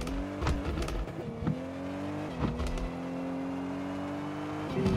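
A rally car in the 1990s-style racing game Drive Rally, its engine droning steadily at high revs with brief gear-shift dips and tire scrabble, close and loud throughout.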